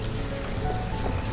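Rain in the village-building game Banished, heard as a steady, even wash of rainfall that fills the whole clip at a constant level, with no talking.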